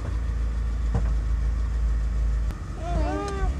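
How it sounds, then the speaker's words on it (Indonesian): A 1981 Mitsubishi Colt 120 Adiputro minibus engine idles with a steady, smooth low rumble, while people talk nearby and a brief whine sweeps in toward the end. "untuk mesinnya cukup masih halus ya suaranya"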